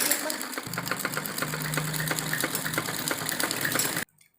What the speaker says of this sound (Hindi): तो अब हम इसके ऊपर एक दबी सिलाई लगाएंगे